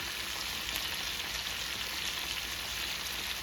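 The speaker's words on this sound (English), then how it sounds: "we're gonna stir this carefully because I got the pan really, really full" Squash and bacon fry together in a very full pan, giving a steady hissing sizzle with soft crackles throughout and no clear stirring strokes.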